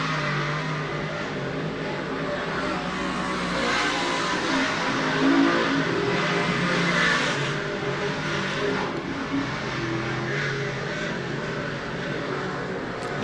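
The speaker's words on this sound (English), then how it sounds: "Andrew Buff, going to be the first car to pull out onto the speedway" Dirt track race cars pull onto Volusia Speedway during the DIRTcar Nationals, making a continuous, dense roar of engines with revving swells and passing cars throughout.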